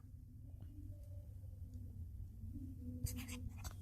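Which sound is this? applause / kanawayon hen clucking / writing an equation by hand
writing an equation by hand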